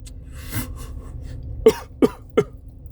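Three sharp coughs in quick succession, fairly close, over a low background hum with a faint earlier rustle.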